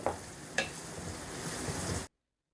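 Onions sizzling steadily in a pan for egg dum biryani, a continuous frying hiss with a couple of brief stirring clinks, close and fairly quiet, with no talking.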